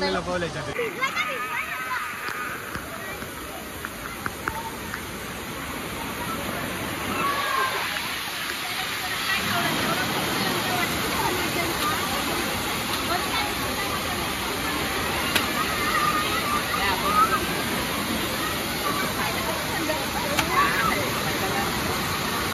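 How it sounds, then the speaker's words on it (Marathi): Water rushing through Sanjay Gandhi National Park in Mumbai after a sudden rise in flow, a steady broadband roar that fills the clip and builds slightly after the first few seconds; people talk over it. "पाहू शकता अचानक भरपूर पाणी वाढलेलं आहे"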